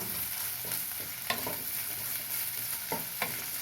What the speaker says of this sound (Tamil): காய் வதங்க கல் உப்பு போட்டுக்கிறேன்